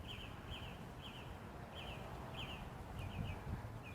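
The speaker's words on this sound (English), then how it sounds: "Oh my God, you hear the birds? They happy." Faint bird chirps repeat in short bursts over a soft outdoor background, fairly distant and quiet.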